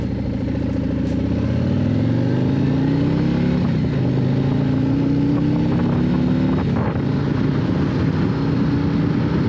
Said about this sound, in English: Exclusive to the 2024 Street Glide and Road Glide is the new and improved Milwaukee 8117 engine